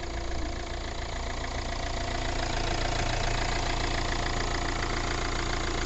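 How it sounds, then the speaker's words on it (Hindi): A Hyundai i20 with the 1.4-litre CRDi diesel engine idles close by, giving an even, slightly knocking diesel clatter that stays constant throughout with no talking. "आप सुन सकते हैं इंजन की साउंड।"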